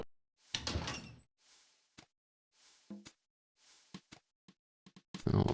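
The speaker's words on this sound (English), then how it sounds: "Looks like the closet door." Closet door opening in The Pandora Directive video game, a few short knocks and clunks with a brief rattle, then a louder sliding thump at the end.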